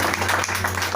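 Congregation clapping together during a church worship service, a dense steady wash of many hands filling the room with a low hum underneath.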